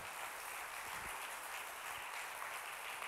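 A church congregation applauds steadily, a dense wash of clapping hands that holds at an even level throughout.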